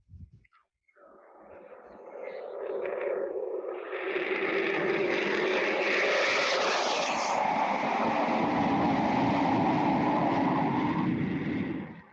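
A Blue Angels jet with GE 414 turbofan engines on afterburner, a roaring rush that builds from faint to loud and then holds as a broad sustained blast across the airfield, with no voices.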